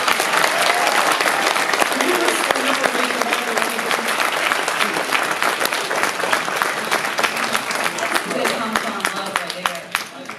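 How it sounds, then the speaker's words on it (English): A convention panel audience at San Francisco Comic Con breaks into loud, sustained applause and cheering, dense clapping filling the room for about ten seconds before tapering slightly. "can we please make some noise and applause for the girl who just got out of the wheelchair?"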